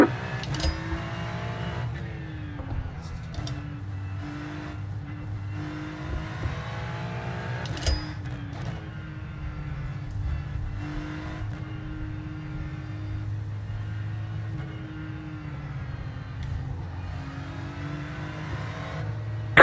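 Race car from the GO racing team running the 24-hour race at the Nürburgring, a steady droning engine with gear-change dips and shifts in pitch, heard from inside the car with no talk.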